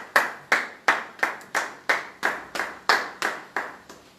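A church congregation claps hands in a steady rhythm, about ten sharp, evenly spaced claps ringing out close and loud with no talking over them.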